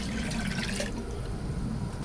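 Dissolved solution in warm water is poured into a bucket of brewing worm compost tea, a short splashing gush that tails off into a quieter watery trickle.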